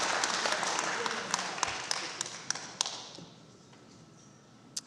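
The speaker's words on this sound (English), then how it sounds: "I think the applause may have drowned out that I called a person in." Applause at a city council meeting fades out over several seconds, with broadband clapping and scattered sharp claps and taps continuing as it dies away.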